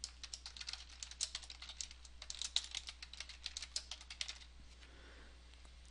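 Fast, steady typing on a computer keyboard while entering accounting data, crisp close clicks at a brisk rhythm that slows and fades near the end, quiet and without speech.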